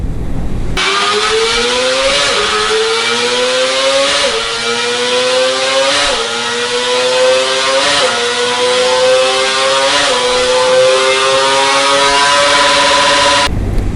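Small four-cylinder motorcycle engine screams near 19,000 rpm, a loud, close, high-pitched wail climbing repeatedly as it shifts through gears in a steady rising pattern, with no voices.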